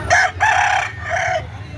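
A gamefowl rooster with a bright red face and yellowish legs crows loudly and close by, giving two long calls separated by a short break, with no talk over them.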